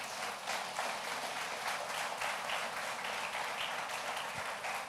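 A church congregation applauding: dense, even clapping from many hands throughout, moderately distant and fairly quiet, with no talking over it.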